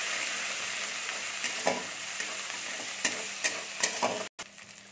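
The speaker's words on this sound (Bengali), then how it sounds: "দিয়ে একটু ভালো করে ভেজে নিচ্ছি।" Onions and ginger-garlic paste fry in a pan with a steady close sizzle, punctuated by several scraping stirs of a spatula, for an egg and cauliflower curry, ending in a brief cut.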